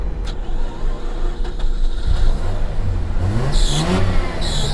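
A Mazda RX-8 engine idling roughly with deep low rumble, then revving up a couple of times, close by with no talking.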